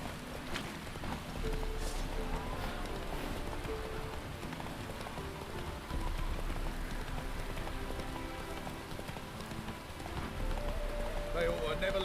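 Steady rain falls in a scene from The Witcher, forming a continuous dense patter, while a horse's hooves clop faintly and a voice speaks briefly.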